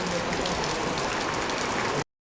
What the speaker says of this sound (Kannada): ನಮ್ಮ ಮನೆಗೆ ಬಂದಾಗ ಮಳೆ ಬಂತು.